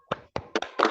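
A class of children performs the tepuk salut clap, giving a quick patterned sequence of about five sharp claps in a classroom, fairly close and moderately loud.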